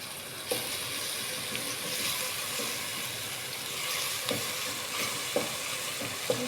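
Onions frying in a little oil give a continuous soft sizzle, with occasional light clicks of a utensil in the pan and no talking.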